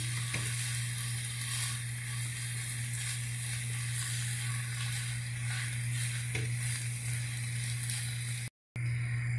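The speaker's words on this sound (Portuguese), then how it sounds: "Eu vou misturar todo ele aqui bem misturadinho." Rice noodles sizzle and fry in a pan as they are mixed, producing a constant loud crackling hiss with occasional soft scraping, alone and close, ending in a brief cut.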